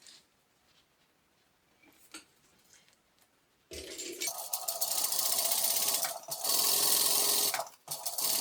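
A sewing machine top stitching a small tote bag starts after a quiet stretch with faint handling, then runs loud and steady with a brief pause before resuming.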